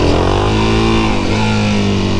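A 2019 Suzuki DRZ 400SM supermoto engine during wheelies: a steady, loud, close single-cylinder drone held at high revs, dipping and climbing slightly as the throttle shifts, with no talk.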